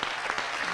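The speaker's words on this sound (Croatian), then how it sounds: "We will clap for you." Brief burst of dense crowd applause from an audience welcoming first-time attendees, steady and fairly loud for under a second.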